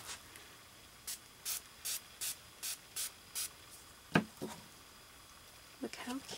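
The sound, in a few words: spray bottle spraying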